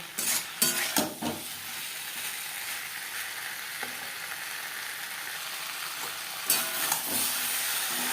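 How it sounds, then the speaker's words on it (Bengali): Spiced potatoes and pointed gourd fry over a high-medium flame in a pan, a steady hiss and sizzle with a few clustered scrapes and clinks of stirring at the start and again near the end. "হাই টু মিডিয়াম ফ্লেমে তিন চার মিনিট নাড়াচাড়া করে নেব"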